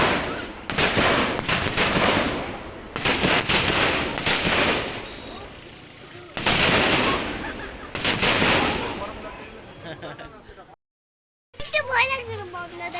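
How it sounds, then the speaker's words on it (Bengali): Firecrackers burst in repeated loud cracks during a Ganga puja celebration, close by, with a short silent gap near the end and talk mixed in between the blasts. "এখানে দেখুন বোম ফাটছে কেমন বোম ফাটছে"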